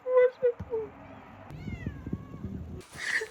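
Cat meowing outdoors, a few short close meows at the start followed by a person's voice and rustling.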